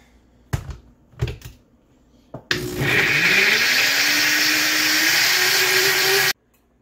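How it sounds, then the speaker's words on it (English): A few sharp clicks and taps, then a blender motor kicks on loud and close, whirring steadily through fresh strawberries with its pitch climbing as it runs, and cuts off abruptly. "blending up a cup of fresh strawberries"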